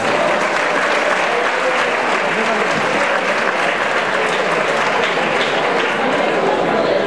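Loud, sustained applause from a crowd at a graduation ceremony for secondary and vocational students at IES Maria Enriquez, dense continuous clapping that fills the room for the whole stretch without letting up.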